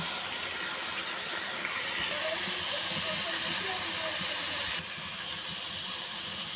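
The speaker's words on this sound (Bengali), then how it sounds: "এখন আমি সিদ্ধ করে রাখা মোচাটা ঢেলে দেব" Steady, hissing sizzle as boiled banana blossom goes into a hot pan of cooked-down spiced mixture, a broad, continuous fry sound that swells slightly midway, with a faint voice underneath.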